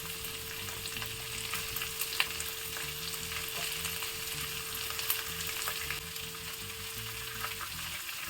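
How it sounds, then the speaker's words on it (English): Cabbage, beans and carrot stir-frying in a pan give a steady, even sizzle with faint scattered clicks from stirring, moderately quiet and continuous, with no voices. "We will stir the vegetables for 2 to 3 minutes."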